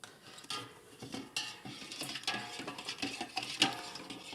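Palm fruit pulp being stirred and mixed by hand in a container, giving soft wet squelching and clinking sounds that come and go irregularly, fairly close and moderately quiet, with no talking.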